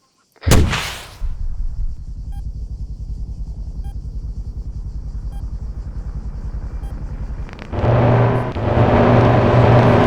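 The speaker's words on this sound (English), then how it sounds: "Him firing the minigun." An MI-24 helicopter's minigun in a video game fires. A sharp blast opens a long, dense, buzzing stream of rapid shots over a deep rumble, then the sound swells louder and rougher toward the end.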